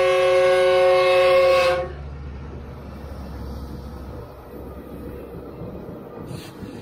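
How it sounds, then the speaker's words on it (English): A loud Metroliner commuter train horn blares with stacked harmonic tones for about two seconds, then cuts off, leaving a steady low rumble of a few rolling railcars, in Soledad Canyon. "So the train runs, it's a Metroliner, very few cars."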